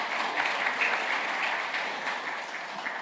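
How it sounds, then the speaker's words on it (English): An audience at the QS Africa 2025 summit in Zanzibar applauds in a dense, steady burst of clapping that fades slightly toward the end. "A round of applause to Veronica."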